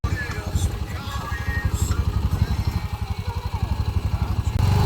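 A vehicle engine chugs along on a ride through the woods, a close, loud, rhythmic low pulsing that stays steady throughout, with a voice speaking over it.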